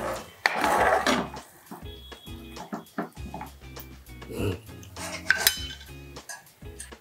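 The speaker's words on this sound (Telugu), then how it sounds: "ఇలా వేసుకుని ఒక 2 మినిట్స్ వరకు సిమ్లో పెట్టుకుని తిప్పుకోండి" Cheese Maggi noodles being stirred in a pan over a low simmer, with repeated clattering scrapes and clinks of a utensil against the metal pan in an irregular rhythm, close and fairly loud.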